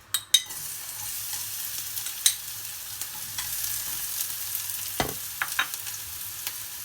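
Onion goes into hot oil for fish pastilla and frying sets in with a steady soft sizzle, broken by scattered clinks and scrapes of stirring, close and moderately loud.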